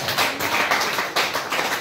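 A church congregation claps together in praise during a service, a dense, continuous wash of many hands with slight rhythmic surges, close and fairly loud.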